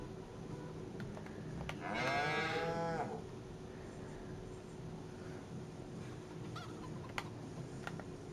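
A single cow in the Farm Sim 25 video game gives a drawn-out moo lasting about a second on a farm, heard over a steady low background hum with a few faint clicks.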